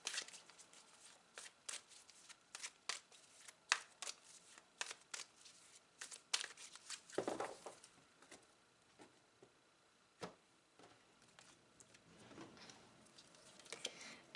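Oracle cards shuffled for a tarot reading, a long run of quiet, close riffles and flicks in irregular bursts with short pauses, faint and alone without any talking.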